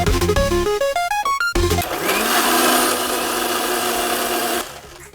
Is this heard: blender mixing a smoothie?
yes